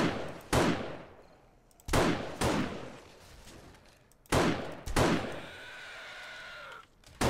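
Gunshots ring out in the zombie survival game 7 Days to Die with the War of the Walkers mod: about six loud, sharp reports spaced a second or more apart, with metallic reload clicks between them.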